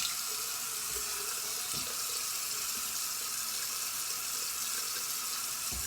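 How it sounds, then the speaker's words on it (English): Tap water runs steadily into a sink for rinsing off after a shave, a constant close hiss with small splashes and no talking. "let's rinse off and see how I did"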